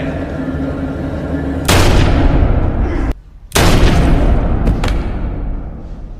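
Loud gunfire from a film scene: a long burst of sharp, booming shots, a brief near-silent gap, then another heavy volley with a few separate cracks near the end, all close and dense.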